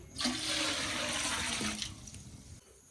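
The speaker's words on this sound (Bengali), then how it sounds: "আমি জল দিয়ে দেবো খিচুড়ি রান্না করার জন্য" Water gushes into a cooking pot for khichuri in a home kitchen, a steady splashing pour lasting about two seconds before tapering off, with no talking.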